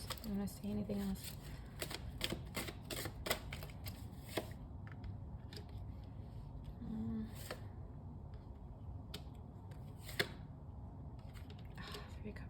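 Tarot cards shuffled by hand in a run of quick, crisp riffles and slaps with brief pauses between bursts, fairly close and moderately loud, with some low background noise.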